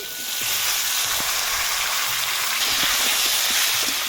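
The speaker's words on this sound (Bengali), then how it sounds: "আলু আর ডাঁটা একটু ভেজে নেব" Potatoes and vegetable stalks frying in oil in a pan give a dense, steady sizzle throughout, close and fairly loud, with faint crackles scattered through.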